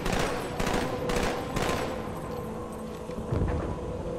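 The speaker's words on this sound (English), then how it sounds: "a punchy gunshot sound effect that just wasn't possible on the original Xbox in 2004" Battle rifle fire in a Halo video game: four quick punchy bursts of gunshots in rapid succession, followed by a fading low rumble and a later thump, loud and close with no talk.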